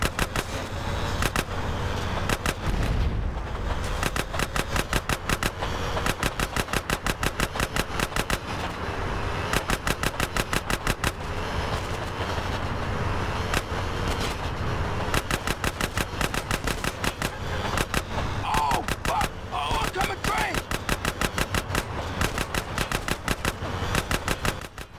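Rapid automatic gunfire from a shootout in the video game GTA San Andreas rattles almost nonstop for the full stretch, with dense, loud bursts and only brief gaps.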